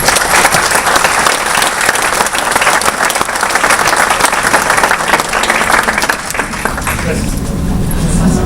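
Loud, dense applause from an audience at a geophysics institute event, welcoming the institute's director; sharp claps pour steadily for about six seconds, then thin and fade as a voice begins to speak near the end.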